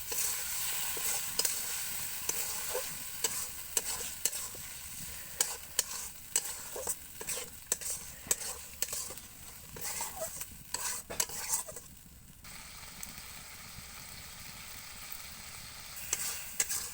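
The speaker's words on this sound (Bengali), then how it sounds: "এরপর দিয়ে দেবো নুন হলুদ দিয়ে মেখে রাখা চিংড়ি মাছগুলো দিয়ে একসাথে কিছুক্ষণ কষিয়ে নিতে হবে" Shrimp rubbed with salt and turmeric are stir-fried into a cooked spice paste in a pan: a steady sizzle with repeated scraping of a spatula, quieter and smoother for the last few seconds.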